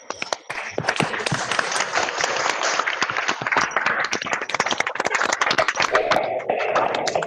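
A crowd at a grand finale ceremony claps for an honoree, a dense wash of many hands that stays loud and even throughout, with sharp individual claps standing out near the front.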